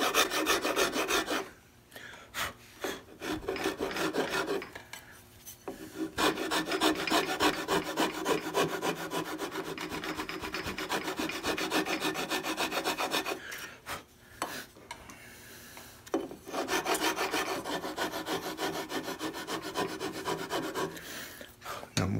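A hand rasp files a wooden swivel breech block to smooth a high spot along a marked line, in long repeated rasping strokes with brief pauses between passes, close and steady.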